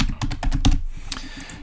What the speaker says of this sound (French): Mais à minima, on a un clavier.